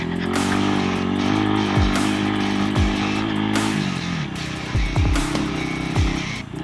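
Rusi KRY 200 motorcycle engine running loud and steady on a rough road, with a constant droning hum and several brief revving surges.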